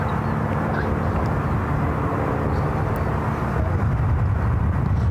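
An airliner approaches to land on runway 28 left at San Francisco International Airport, producing a continuous, fairly loud low jet roar and rumble that holds steady throughout with no speech.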